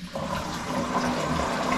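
Water gushes steadily from a shower-room tap into a container, a brief, constant splashing rush at close range with no talking.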